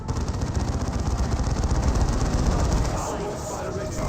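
Rapid gunfire in Dawn of War 2 Elite Mod battle, hitting a Dreadnought: dense rattling bursts of shots, fairly loud and continuous, easing toward the end, with a voice talking over it.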